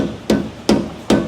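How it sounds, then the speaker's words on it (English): Three evenly spaced hammer blows drive a seal into the pinion bearing housing of a 2005 Ford F-150 9.75-inch rear axle. Each strike is sharp and close, with a short ring after it and no talking. "I'm walking around the edge of this seal, driving it in."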